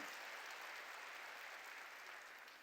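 A church congregation applauding, a dense even wash of clapping that holds steady and fades slightly at the close, faint and distant.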